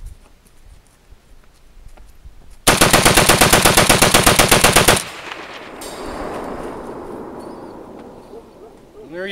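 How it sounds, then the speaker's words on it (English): An AK-47 bump-fired outdoors lets off a loud, rapid burst of automatic gunfire lasting about two seconds, then leaves a lingering echo and quiet ambient noise; someone talks faintly before and after. "Bump firing the AK-47."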